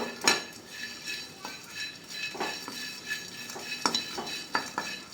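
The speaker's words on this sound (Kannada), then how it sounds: "ಬಾಣಲಿ ಕಾದಿದೆ ಸಿಗಡಿ ಇದ್ದೀನಿ ಫಸ್ಟು ಸಿಗಡಿನ ಚೆನ್ನಾಗಿ ಹುರ್ಕೋಬೇಕು" Shrimp stirred in a hot frying pan, with a faint sizzle under repeated clinks and scrapes of a metal spatula against the pan, coming in irregular bursts close by.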